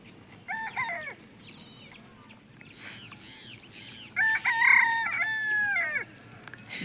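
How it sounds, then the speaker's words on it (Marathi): A rooster crows twice at middle distance in the afternoon, the second call longer and louder, over quiet outdoor background with a few clucks between. "कोंबडा तर दुपारी बरडतोय"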